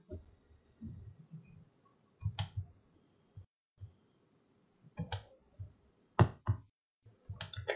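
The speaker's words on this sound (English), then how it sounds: "Now we're going to right mouse click." Several sharp, isolated right-clicks of a computer mouse, spaced irregularly, close and quiet between them.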